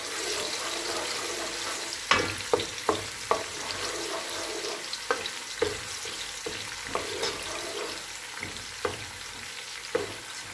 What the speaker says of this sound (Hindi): अब इसी ऑयल में हम प्याज डाल देंगे। प्याज को फ्राई कर लेंगे।